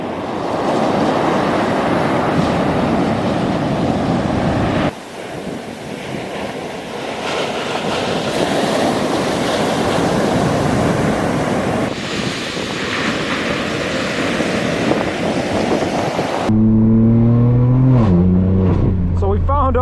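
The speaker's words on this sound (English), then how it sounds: "we're gonna check out the ocean hitting the sand" Ocean waves wash up onto a sandy beach in a continuous, loud roar with heavy wind buffeting the microphone. Near the end the surf cuts off and a voice and tonal sounds take over.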